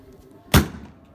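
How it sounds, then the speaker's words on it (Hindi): A single firecracker bursts in one sharp, loud thud during outdoor Govardhan Puja celebrations, with a short decaying tail afterward and faint background noise around it. "तारा पटाखा पुस निकल रहा"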